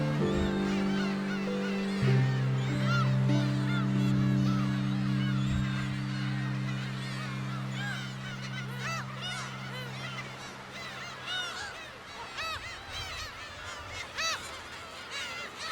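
Gulls call at a nest on Dokdo, a young gull near the nest while the parent is away hunting; loud honking, goose-like cries repeat over a dense, busy colony chorus, close and steady throughout.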